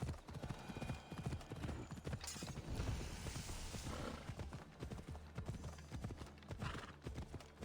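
Horse hooves clip-clop in a steady trotting rhythm in Assassin's Creed Odyssey, close and clear, with light creaks and a brief whinny mixed into the gait.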